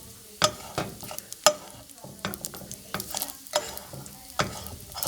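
Bacon frying in a pan over medium heat, with a steady soft sizzle broken by repeated sharp clicks and scrapes of a utensil stirring, near and fairly quiet, no talking.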